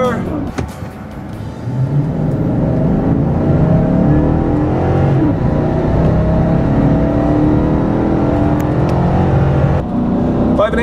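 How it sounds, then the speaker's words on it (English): A 2014 Chevrolet Silverado pickup pulls hard at full throttle, its engine note rising steadily and loud for several seconds on a zero-to-sixty run, with a voice talking over it. "Give the engine a little bit of gas and let go. There we go, full throttle."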